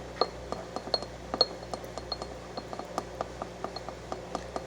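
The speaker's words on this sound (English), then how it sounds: "I'm going to find my stir stick, and I'm going to mix it up." Candle wax stirred with a stir stick in a glass container, giving a quiet series of light, irregular clinks and taps against the glass at close range, with no speech.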